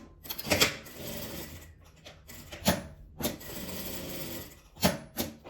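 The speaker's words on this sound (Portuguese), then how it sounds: "Eu tô costurando com a medida de um pezinho de máquina." A sewing machine stitching around a fabric butterfly, running in short bursts of steady mechanical whirring broken by pauses and knocks of handling the cloth, close by with no talking.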